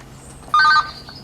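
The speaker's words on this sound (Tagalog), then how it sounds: "Dumaw-awag iti cellphone ko." A cellphone rings in a short, loud electronic burst of bright tones that stops abruptly, with quiet room noise around it and no talking.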